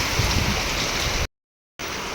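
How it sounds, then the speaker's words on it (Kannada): Heavy rain pours down as a dense, steady roar that is loud and close. The sound cuts out briefly to silence, then resumes just as heavily. "ಮಳಿ ಎಷ್ಟು ಜೋರು ಬರಾಕತ್ತೈತಿ"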